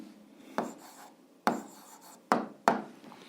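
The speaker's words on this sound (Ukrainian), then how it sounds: "А зараз записуємо відповідь, пишемо відповідь." Handwriting an answer for an algebra exercise, a pen or pencil scratching across paper in four short strokes, each a quick sharp scrape fading out, close and quiet, with no talking.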